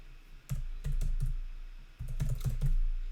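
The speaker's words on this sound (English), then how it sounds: "let me type in my email in order to start" Keys clatter on a computer keyboard as an email address is typed, a quiet burst of separate clicks in two quick runs with a short pause between, close by and with no voice.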